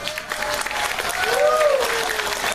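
Audience applause and crowd noise at a religious lecture, a moderate burst of clapping that swells midway, with a voice briefly audible over it.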